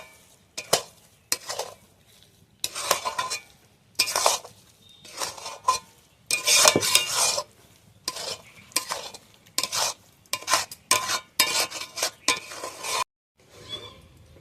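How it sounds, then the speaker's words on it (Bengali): Semolina halwa cooked with milk and coconut is stirred in a pan, a spoon scraping and clinking against the metal in repeated irregular bursts, close and fairly loud, with brief pauses between strokes and no talking. "দিয়ে আমি এবার নাড়তে থাকবো, নাড়িয়ে নাড়িয়ে পুরো শুকনো করে নেব,"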